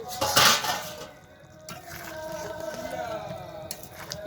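A metal lid comes off a pot of chilli chicken after about twenty minutes of covered cooking. It gives a clear clank and clatter near the start, followed by a softer, steady simmering hiss.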